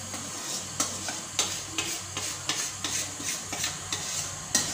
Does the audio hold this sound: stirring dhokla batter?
yes